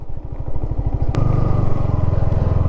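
An MT 150 Adventure motorcycle in poor condition, its engine thumping loudly and close in a rapid, even pulse, with a sharp knock midway as the pulse steadies into a denser rumble.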